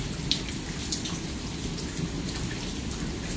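Steady heavy rain pours during a thunderstorm in Lufkin, Texas, a continuous dense hiss with a low rumbling bed beneath and scattered drops pattering close by, with no distinct thunderclap.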